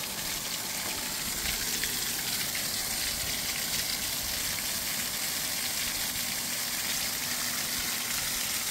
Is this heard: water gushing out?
yes